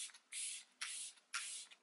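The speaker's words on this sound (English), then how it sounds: "I'm gonna quickly spray my face with the Dragon's Blood Essence Mist from Rodial" Rodial Dragon's Blood Essence face mist sprays three times in quick succession, each a short hissing burst about half a second long, close and alone in a quiet room.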